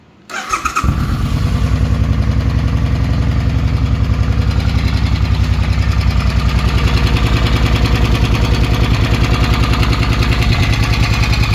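A cheap motorcycle engine catches and settles into a steady, loud, close idle while warming up, a fast even putter with a faint ticking running through it, with no talking.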